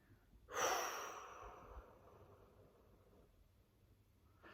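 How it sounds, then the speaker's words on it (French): One forceful exhale bursts through the nose after the nostrils were held pinched during a sophrology breathing exercise, then trails off into quieter breathing, alone and close. "soufflez fortement en lâchant la pression sur les narines, les yeux et les oreilles"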